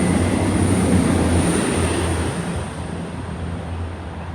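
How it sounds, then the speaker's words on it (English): Broad rumbling roar of trains passing through Birmingham city centre, loud and close, holding steady before easing slightly toward the end, with no talking over it. "More trains."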